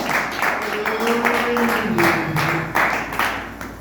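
A church congregation applauding Jesus during a Portuguese-language service, with rhythmic group clapping under a sung or sustained voice and a faint tonal line, fairly close and moderately loud.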